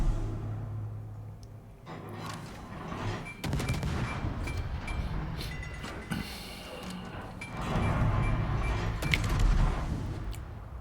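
Warship guns fire armor-piercing shells in World of Warships, heard as repeated booming salvos and rumbling impacts spread over a steady background of battle noise, moderately loud.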